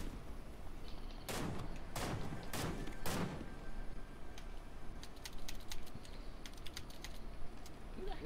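Gunfire in the Fortnite battle royale game: four sharp broadband shots at roughly half-second intervals early on, followed by scattered fainter pops and clicks over a steady background hum, with no talking.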